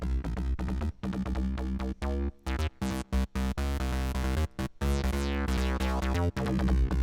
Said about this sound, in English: So this is the bass sound.